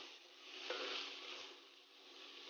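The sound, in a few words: garlic sizzling as it is added to a hot pan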